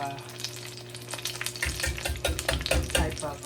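Alcapurrias frying in oil, a steady bubbling crackle that swells after a quieter start into denser popping and spatter, close and moderately loud with no voices.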